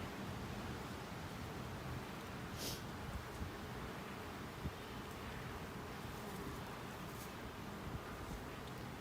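A dense, steady hum of many honeybees buzzing close by in an open hive, continuous and unbroken, with no voices.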